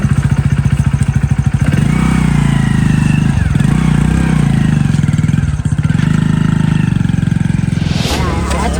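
A motorcycle engine starting and running at close range, a steady mid-pitched putter with revving, while people talk loudly over it in a comedy scene.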